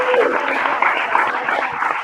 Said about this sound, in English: Steve, give that young man right there a round of applause.